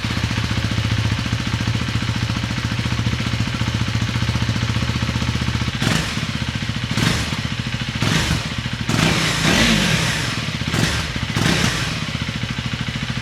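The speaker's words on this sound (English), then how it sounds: "Let us listen to the stock exhaust sound again before we listen to the barrel exhaust." A KTM Adventure 390 motorcycle with its stock exhaust idles with a steady, throbbing exhaust note, close and loud, broken by a few sharp revs and clattering bursts partway through.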